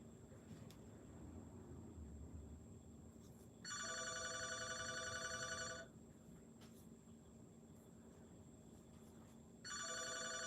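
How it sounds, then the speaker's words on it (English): A telephone rings in two long electronic trilling bursts with a pause between, fairly close and clear over a steady background hum. "that phone never rings unless I'm on live"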